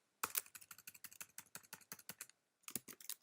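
Brisk typing on a computer keyboard, close and clear, with a quick run of crisp key clicks, a short pause, then another burst of keystrokes, without any talk.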